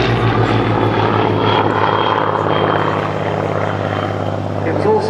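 A Spitfire flies past at a Wings & Wheels air show at Dunsfold, its propeller engine a loud, steady drone filling the whole stretch, with wind and crowd noise beneath.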